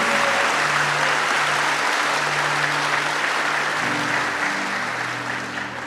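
A church congregation at a Catholic service breaks into full, steady applause, loud and close, with sustained low musical tones running underneath the clapping.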